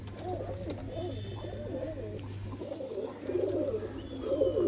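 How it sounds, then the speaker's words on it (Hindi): Pigeon coos from a female pigeon: repeated soft, rolling coos in an uneven rhythm, close and fairly clear, over a steady low hum and background noise. "ये कबूतरी अभी कुरीश में लगी हुई कबूतरी है।"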